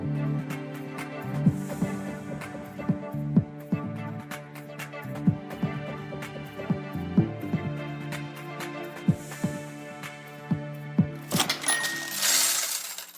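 Coins clink and drop in a series of bright metallic jingles over background music, ending in a brief cascade of tinkling.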